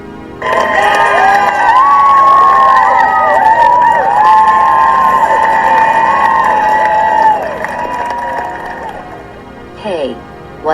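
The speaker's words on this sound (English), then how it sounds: "what's with all of this cheering going about?" Crowd cheering loudly and continuously, excited shouts and whoops layered together, fading somewhat toward the end with a short burst of voices at the close.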